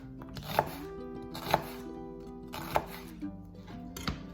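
A red onion sliced with a knife on a chopping board, four distinct, evenly spaced chops that land crisply and close, with quiet room tone between and no talking.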